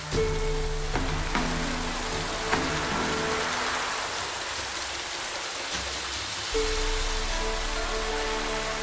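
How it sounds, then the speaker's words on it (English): Steady rain patters and hisses in the video game The Witcher 3: Wild Hunt, with a low musical drone fading out midway and returning near the end. "Looks like rain."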